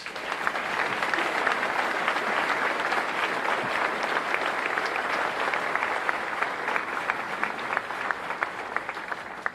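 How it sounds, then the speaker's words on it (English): During Milwaukee's 2017 State of the City address, the audience gives the Common Council a round of applause. The dense, even clapping fills the hall for nearly ten seconds with no talk over it. "Please join me in giving them a round of applause."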